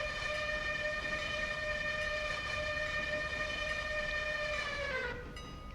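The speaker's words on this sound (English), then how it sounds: "It's a whistle of dignity, thoughtfulness, and care." A train whistle in the Railroader video game sounds as one long, steady, loud multi-tone blast held for about five seconds before its pitch sags and it cuts off, with no talk.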